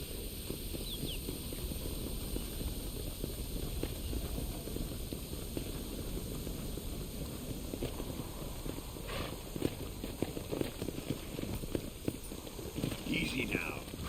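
Horses walk with a steady, faint clip-clop of hooves in a Red Dead Redemption 2 scene in Mexico, the hoofbeats running continuously under low ambient noise.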